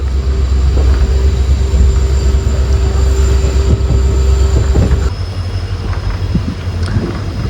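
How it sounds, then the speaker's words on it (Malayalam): A passenger train hauled by WDP-4D diesel locomotive number 404 pulling out of Chamarajanagar, with a loud, steady rumble of engine and rolling wheels, continuous and close throughout. "ചാമരാജനഗറിൽ നിന്ന് നമ്മുടെ വണ്ടി എടുത്തു. KJM WDP 4D 404 number."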